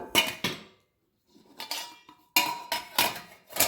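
Steel masala dabba spice boxes are opened in a home kitchen, giving sharp metallic clanks and clinks of lids in close clusters separated by a short quiet gap.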